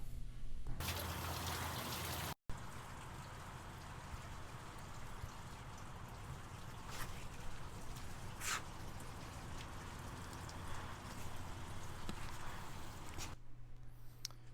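Hot coolant pours and splashes out of a Cummins ISX diesel engine in a steady, continuous gush that breaks off briefly once and then carries on without a pause, with no talking over it.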